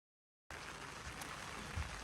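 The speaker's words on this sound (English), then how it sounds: "It's raining heavily" After half a second of silence, a steady dense hiss of heavy rain begins and continues evenly, soft and diffuse, at the Fansipan Legend entrance in Sa Pa, Vietnam.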